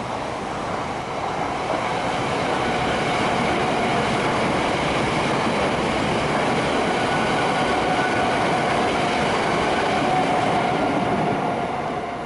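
A Greater Anglia train rumbles past continuously, a dense roar of wheels on track with faint rhythmic clatter and a steady hum, loud and close throughout.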